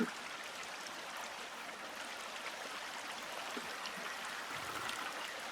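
Stream water flows steadily in The Forest video game, a constant broadband rush with no pauses or talking.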